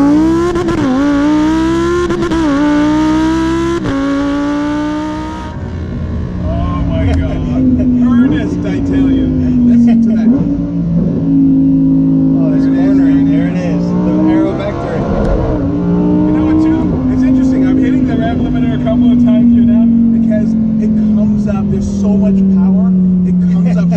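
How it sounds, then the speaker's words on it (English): Lamborghini engine revving hard as the car accelerates, a loud sustained roar rising and settling through gear changes over nearly half a minute, with people talking excitedly over it. "I think this may be the best machine Lamborghini's ever built."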